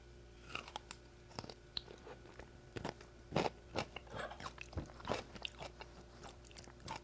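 Crisp, wet crunching and chewing of pickles, close to the mic, in a rapid series of irregular bites over a quiet background with no talk.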